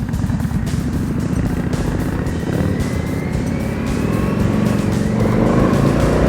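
Indian FTR R 1200 Carbon motorcycle accelerating hard while being ridden, its loud engine note rising steadily through the revs with continuous wind rush, close and unbroken throughout.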